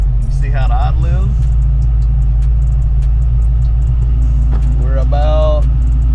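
A Foxbody Saleen Mustang with Holley EFI idles with a loud, steady low rumble throughout, while someone talks briefly over it at the start and again near the end.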